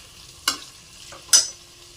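Chicken for biryani cooks in a pot, with two distinct stirring scrapes and sizzling bursts over a quiet simmer, close and alone.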